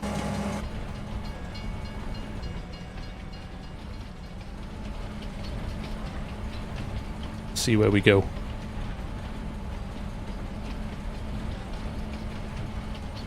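Train ride in the video game Farming Simulator 22: a steady rolling rumble with faint rain-like patter runs throughout, a brief squealing swell near the end, and a person talks over it.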